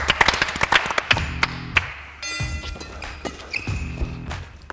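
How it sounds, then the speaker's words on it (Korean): Spectators at a badminton doubles match clap in quick bursts, sharp slaps echoing in an indoor court, mixed with thuds and squeaks of shoes; moderately loud, irregular rhythm. "박수."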